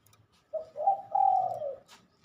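A single soft coo from a zebra dove, a low hooting call rising and falling over about a second, fairly faint and distant with no talking.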